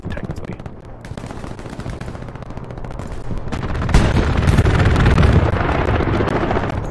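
Aircraft strafing run in the Hell Let Loose video game: dense, rapid gunfire crackle building into a louder, heavier roar of impacts and rumble over the last few seconds, with no talking.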